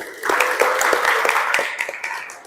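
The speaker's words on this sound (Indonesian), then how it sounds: "Tepuk tangan" Participants at an SMK Negeri 1 Brondong session break into applause, a steady patter of many hands clapping at close range for a couple of seconds, then thinning and fading toward the end.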